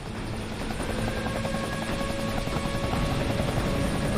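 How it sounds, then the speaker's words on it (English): An attack helicopter in the video game Deadlight thrums steadily with a fast, continuous rotor chop, loud and close throughout with no talking. "Looks like I have to go on the run from my old friend the attack helicopter again"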